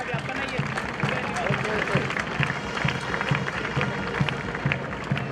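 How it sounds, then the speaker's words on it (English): Audience at a sports summit inauguration ceremony gives a big round of applause for an honoured national-level rower, dense continuous clapping filling the hall, loud and steady, with some voices mixed in. "A huge round of applause for Mr. Amey Kulkarni"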